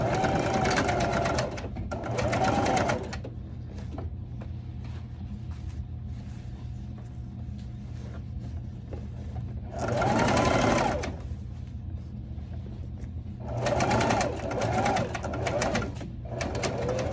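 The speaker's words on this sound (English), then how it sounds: "So I'm sewing." A sewing machine runs in several loud bursts, stitching an understitch on an evening dress, with quieter stretches of low hum and handling noise between runs.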